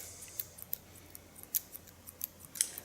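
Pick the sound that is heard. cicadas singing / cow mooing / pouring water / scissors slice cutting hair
scissors slice cutting hair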